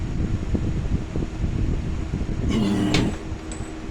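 A Dremel rotary tool abrades the edge of a glass tile during knapping, producing a continuous close whirring grind with a sharper, brighter scraping burst late on.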